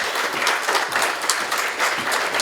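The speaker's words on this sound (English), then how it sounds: "A round of applause." Audience applause at a talk fills the whole moment, a thick and lively wash of clapping hands that swells in uneven bursts.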